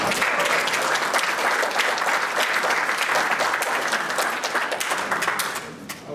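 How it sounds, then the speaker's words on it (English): An audience breaks into sustained, dense applause, loud and steady before tapering slightly at the close. "I always love it when you all applaud a film clip"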